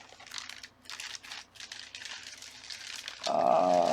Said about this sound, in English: that's a lovely sound for people who like crinkle paper